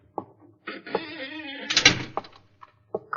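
A creaking door swings open in an old radio drama, a long groaning whine followed by a louder rattle of the latch, with faint knocks around it.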